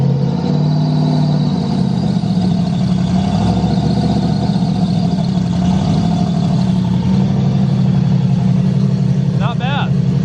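A turbocharged LS-swapped Mustang on Holley EFI runs steadily after cranking, its engine a loud, close, continuous low rumble at a fairly even idle for the whole stretch.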